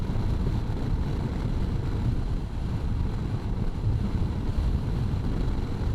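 Strong wind buffets the microphone on a solo motorcycle ride along the Mindoro loop, a loud, continuous, low rumbling roar with no talking.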